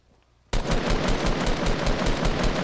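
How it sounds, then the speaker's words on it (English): Fortnite battle royale gunfire: an automatic weapon opens up abruptly after a quiet half second and keeps firing in a loud, fast, continuous burst with regular rhythmic shots to the end. "Shots fired."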